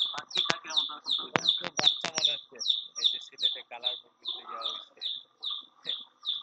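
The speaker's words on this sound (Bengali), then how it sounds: "স্যার পাখি ডাকের মতো শব্দ হচ্ছে।" Bird chirping in the background, a steady series of short, high, evenly spaced chirps repeating about twice a second, clear and fairly close, with brief bursts of other sounds over the first half.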